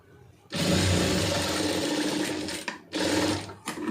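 Close, loud electric sewing machine running a long continuous stitch along a folded fabric piece, stopping briefly near the end before a second short burst and a final stop.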